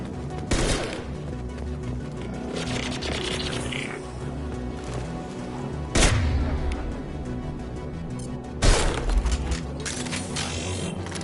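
Grenade blasts in Mass Effect 2: sharp explosive booms stand out at intervals over a constant humming combat background, with scattered gunfire between them.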